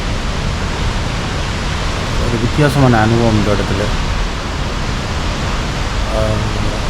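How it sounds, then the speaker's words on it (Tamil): A waterfall pours down fast onto rocks and shatters into fine spray. It makes a loud, steady, close roar of rushing water throughout, and someone talks over it partway through. "மேலிருந்து இவ்வளோ வேகமாக அருவி ஓடிக்கொண்டிருக்குன்னு பாருங்கள்."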